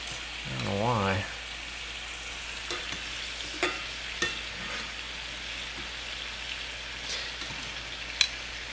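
Scallops searing in a hot pan, a steady close sizzle with occasional sharp pops and clicks, and a brief voice early on.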